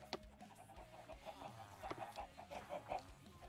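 Chickens on a Minecraft farm cluck in short, quiet bursts that repeat irregularly, faint and soft with no talking over them.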